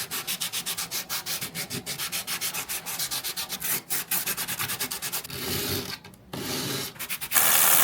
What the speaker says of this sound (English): we got a little bit of sanding to do